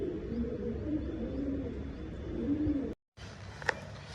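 Double-crested female pigeons coo steadily at close range in a low, rolling murmur, one soft call overlapping the next, with a brief dropout to silence before a faint higher chirp.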